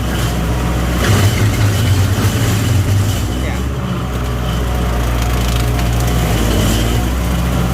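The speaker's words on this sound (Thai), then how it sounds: "เจอดินที่มันไม่เสมอนะครับรถ เครื่องตัดหญ้านี่ร้องนะครับ" A small two-stroke brush cutter engine drones loudly and continuously while cutting over uneven ground, its pitch labouring and wavering under load, close by.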